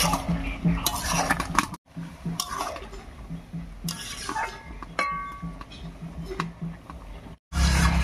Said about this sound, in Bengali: এবার খুব ভালো করে মিশিয়ে নেব লাউয়ের সঙ্গে